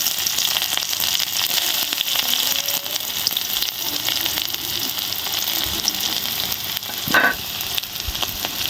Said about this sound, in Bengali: পরিমাণ মতো তেল দিয়ে দিয়েছি দিয়ে দেবো পেঁয়াজ আর লঙ্কা কুচি